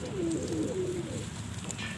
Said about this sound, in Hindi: कबूतर देखें, कबूतर का साइज़ देखें, और जो कलर है यूनिक कलर है